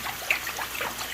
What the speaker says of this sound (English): just go ahead and just dump it in your sink